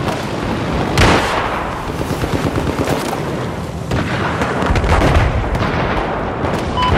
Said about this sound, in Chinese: 手雷！